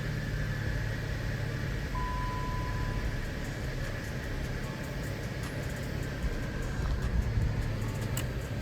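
A 2014 Dodge Avenger engine runs at a steady idle, giving a close, continuous low rumble with a broad hiss over it for the whole stretch and no clear change in pitch.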